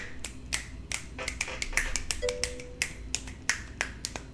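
Many sharp finger snaps in a quick, irregular cluster, crisp and close, with no voices.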